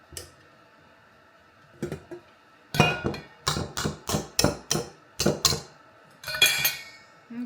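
Keto egg white bread batter being mixed in a bowl, with a run of sharp utensil clacks and scrapes in uneven bursts against the bowl, close and fairly loud, with quiet gaps between strokes.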